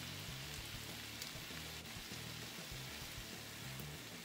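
Two tablespoons of butter melt and sizzle in a spicy lemon chicken sauce in a skillet, giving a steady, soft crackling hiss that runs without a break and with no talking.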